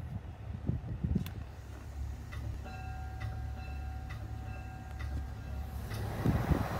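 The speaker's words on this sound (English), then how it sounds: "That is the train bell." A train bell rings in repeated, evenly spaced strikes over a low rumbling background, moderately distant and fairly quiet.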